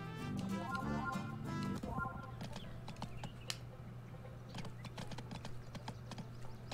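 Horse hooves clip-clop in the video game Go Vacation, a quick irregular patter of knocks on a mountain trail over steady background music, with occasional chirps around.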